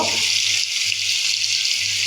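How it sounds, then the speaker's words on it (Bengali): A steady, bright sizzle of potatoes frying in a pan, constant and close, with no voices. "আমি আলু কেটে নিচ্ছি আলুটা একটু ভাইজে নিব"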